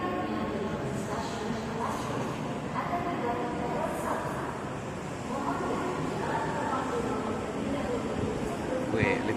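A Jakarta LRT train pulls in at platform 1, a low steady rumble and rolling hum with faint squeals on top, close by, while people talk over it.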